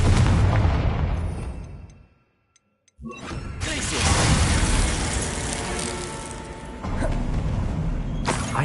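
A Confringo blasting spell going off in Hogwarts Legacy: loud, dense booming bursts that fill the soundscape, broken by a brief near-silent gap before another roaring blast rumbles on.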